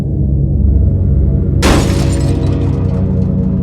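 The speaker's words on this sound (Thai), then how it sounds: "เสียงเหมือนมีอะไรหล่นลงมาที่หน้ากระโปรงรถ" Something falls onto a car's hood with a single loud, sharp crash midway, followed by a short rattling decay over steady low rumbling background noise.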